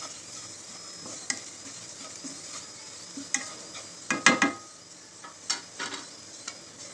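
Kelful flower vegetable stir-fried in a pan with turmeric, chili powder and garam masala gives a steady soft sizzle, broken by sharper scraping clatters of the spoon against the pan.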